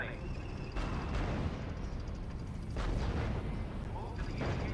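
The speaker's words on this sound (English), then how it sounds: "Unit opening fire on the enemy." Artillery units fire in the strategy video game R.U.S.E., a dense rumbling barrage of booms and blasts that runs continuously at steady loudness, with a few sharper swells layered through it.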